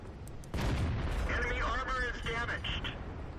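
A tank cannon fires once in World of Tanks, a heavy low boom followed by sustained rumble, with a synthetic game voice speaking over the aftermath.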